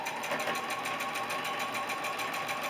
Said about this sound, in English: Okay, so I'm just sewing this down right quick.